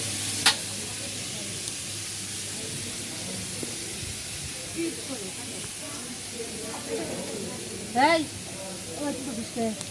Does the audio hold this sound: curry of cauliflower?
yes